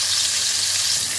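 Fish frying in hot oil gives a dense, even sizzle, close and steady for a brief moment with no voices.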